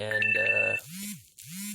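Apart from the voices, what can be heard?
phone ringtone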